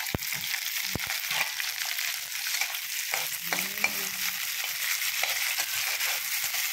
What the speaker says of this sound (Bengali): শুটকিগুলো লাল লাল করে ফ্রাই করবে?